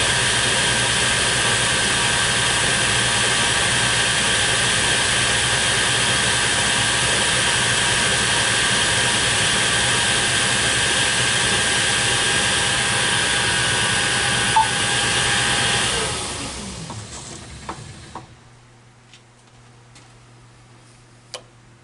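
Machine tool taking a short skim pass on Harbor Freight welding table clamp adapters, a steady loud cutting drone that runs for about sixteen seconds, then winds down into near silence with a few faint ticks and clicks.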